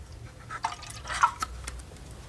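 A small amount of water poured into a container, heard as soft close trickles and drips over a couple of seconds with no talk.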